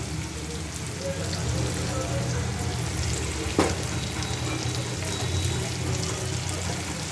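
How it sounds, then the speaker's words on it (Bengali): Onion frying lightly in a pan gives a dense, even crackling sizzle like steady rain, close and constant for the whole stretch, with one brief sharp tap midway and no voices. "পেঁয়াজটা হালকা একটু ভাজবো"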